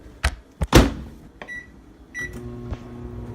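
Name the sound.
microwave oven running with Peeps marshmallows inside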